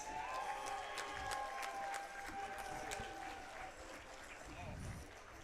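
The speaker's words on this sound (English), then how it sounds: "let's give these two competitors one more round of applause" Crowd applause after a grappling match ends in a submission, continuous clapping and some cheering under an announcer's amplified voice.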